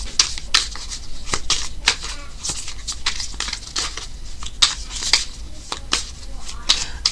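Tarot cards are shuffled close by in a steady run of quick papery slaps and riffles, with sharp card snaps breaking out every half second or so.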